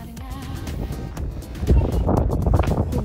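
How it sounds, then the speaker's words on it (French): Wind buffets a microphone on the way from Marla toward the Plaine des Tamarins, a loud low rumble that swells and gusts more strongly in the second half, with no voices. "Il y a un peu de vent ici,"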